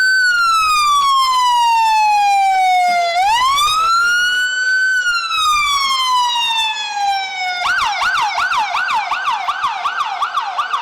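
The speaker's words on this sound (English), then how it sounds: "that is the City of Hamilton Police Department just letting us know they're here" A City of Hamilton police car siren sounds loud and close during a Fourth of July parade, sweeping in long slow wails that rise and fall before switching to a fast, rapid yelp.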